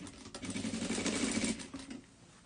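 Sewing machine running steadily as it stitches pre-folded bias binding along the full edge of a child's dress, a close, continuous mechanical whir lasting about two seconds before easing off.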